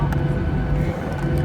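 An MD-11 jet's engines rumble at an airport as it prepares for takeoff, a steady, loud low-frequency roar with broadband hiss throughout, mixed with a background voice.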